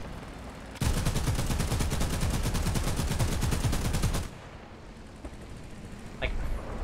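A burst of rapid automatic cannon fire from an anti-aircraft gun mounted on a truck in War Thunder, loud and continuous for several seconds before cutting off into quieter ambient battle noise with a brief distant shot.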